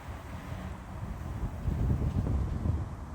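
Gusty outdoor wind on a grey, cloudy day after rain, buffeting the microphone in low rumbling surges that build louder toward the end, with no voices.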